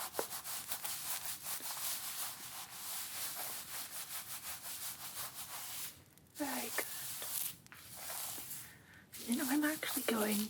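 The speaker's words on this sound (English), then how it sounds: "A nice good scrub." Fingertip pads scrubbing hair and scalp in a close, whispery ASMR hair-care session, giving a steady rubbing, scratchy texture with brief pauses while a soft voice speaks now and then.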